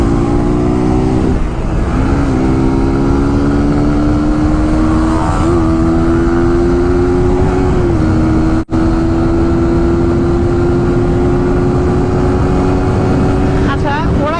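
A Suzuki GSX-R sport motorcycle accelerates at speed with a loud, close engine drone. Its pitch climbs steadily through gears, with brief dips at the shifts, and a rush of wind runs underneath.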